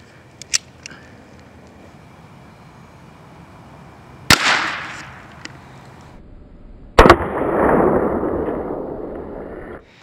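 Gunshots are fired at a DIY lens protector: a few faint early pops, then two sharp loud cracks several seconds apart, each followed by a lingering rumbling decay.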